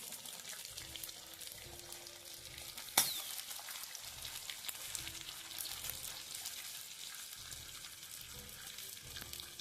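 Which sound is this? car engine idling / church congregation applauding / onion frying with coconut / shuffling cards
onion frying with coconut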